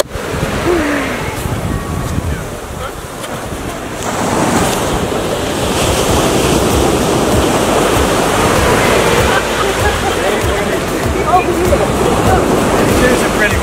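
Ocean surf at Cathedral Cove, New Zealand, heard close as a loud, continuous roar of breaking waves and wash, building heavier after the first few seconds, with wind buffeting the microphone.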